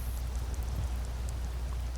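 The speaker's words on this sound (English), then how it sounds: "now here is a nighttime and it's raining" Steady nighttime rain in the video game Skyrim, a dense continuous hiss of falling drops with low rumble beneath, even and unbroken throughout.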